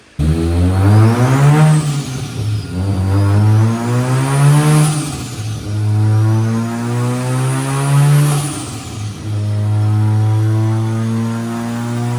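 Bridge-ported rotary engine in a Mazda RX7 FD running on a garage floor, a loud close idle with slow swelling revs and a high whine weaving above, no speech.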